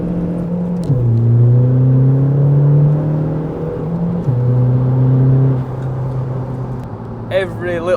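Close, loud engine note of a car fitted with a PD130 1.9 TDI diesel accelerating hard, rising steadily in pitch through two gear changes with a drop between them, then easing off as a voice speaks at the end.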